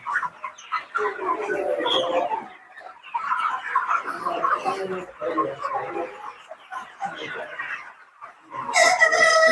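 Flock of chickens after an ORT respiratory vaccination, clucking and calling continuously and close by, with a brief burst of sharper squawking near the end.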